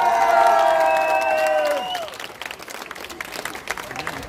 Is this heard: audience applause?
yes